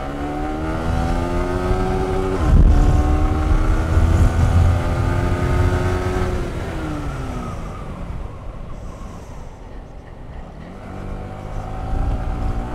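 A modified sports motorbike being ridden, its engine loud and close, revving up through gears with rising and falling pitch, easing off mid-way and picking up again near the end.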